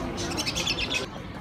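Budgerigars chirping in quick, bright bursts of twittering for about a second, close and fairly loud over a steady low background hum.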